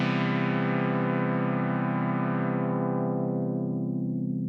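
A thick, buzzy synth pad from an emulated Juno 60 preset holds one sustained chord, its bright upper edge slowly dulling as a filter closes. No one speaks.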